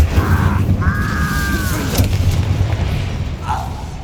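An incendiary fire spell explodes in the Hogwarts Legacy video game: a deep booming burst under a steady low rumble, with brief tonal magical shimmers around it.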